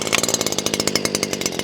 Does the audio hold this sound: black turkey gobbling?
no